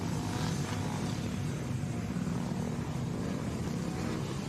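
Off-road dirt bike ridden flat out in a women's B class moto at a GP race on Lake Sugar Tree, its engine a loud continuous roar held at full throttle throughout, with no talk.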